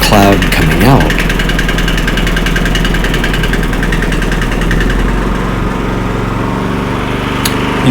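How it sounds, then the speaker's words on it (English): A snowblower engine runs on choke with a steady, loud, rough droning idle that continues evenly throughout, close by, with faint voice in the background. "You can see there I just backed off the choke, and the engine is smoothing out."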